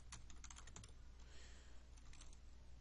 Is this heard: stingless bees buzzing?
no